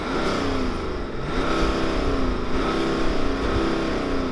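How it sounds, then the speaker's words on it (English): A BMW X4 M40d diesel engine revs steadily and loudly up close, a continuous dense engine roar that swells slightly around the middle and holds with no talking. "Let's hear the X4 rev."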